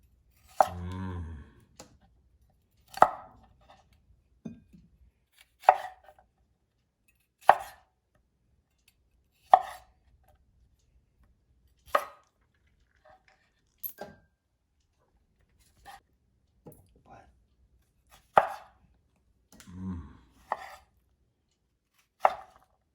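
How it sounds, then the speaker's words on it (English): A knife rough-chops vegetables for gazpacho on a board in irregular single strikes, about a dozen sharp thuds spaced a second or two apart, close and fairly quiet. "This is a rough chop."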